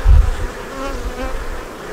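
Honey bees drone steadily inside an opened hive on a cold, wet day, a close, continuous buzz with a louder low thump at the start.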